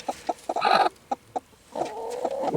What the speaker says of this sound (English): This girl here has gotten broody and she's not happy